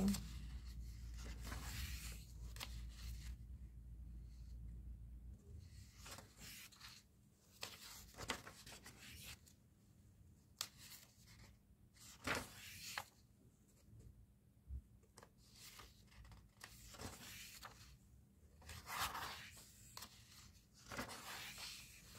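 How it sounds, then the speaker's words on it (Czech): Crisp rustling and crackling of thin coloring-book pages being turned, in bursts with short pauses, close up, with no talking. "Papír taky slabý, což je určitě slyšet, jak tím listuju"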